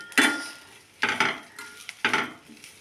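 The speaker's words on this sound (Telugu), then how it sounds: "నేనైతే ఒక్క స్పూన్ నెయ్యేసానండి కరివేపాకు వేగటానికి" Curry leaves frying in a spoonful of ghee, heard as three distinct bursts of crackling sizzle, each one fading quickly, close and fairly loud.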